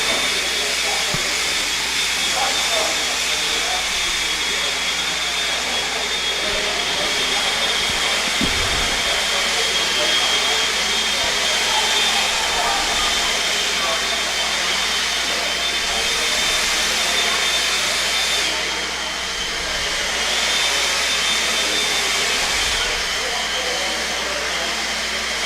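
Several blowers run at a race event, giving a loud, continuous rushing roar that barely changes for the whole stretch and only eases briefly once.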